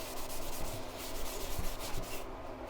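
Steady rubbing and scrubbing on a C3 Chevy Corvette transmission pan during cleaning, a continuous abrasive scraping with rhythmic strokes, close up and moderately loud with no talk.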